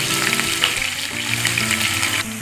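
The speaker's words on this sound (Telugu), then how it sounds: "ఇవి లో ఫ్లేమ్లో పెట్టుకొని ఫ్రై చేసుకొని" Bitter gourd fry ingredients such as chana dal, urad dal, green chilies, onion pieces and curry leaves frying on a low flame, giving a continuous close sizzle and crackle with no talking.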